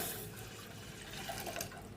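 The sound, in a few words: pouring milk into a pot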